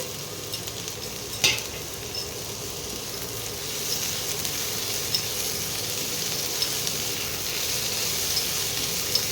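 An eggplant dish frying in a pan with chopped tomato and green chilli, producing a constant close sizzle and soft crackle, with an occasional knock of a utensil against the pan.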